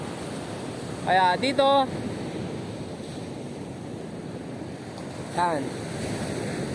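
Rough sea surf washes continuously onto the shore under steady wind noise, a broad constant roar with no clear breaks, while someone speaks briefly twice over it.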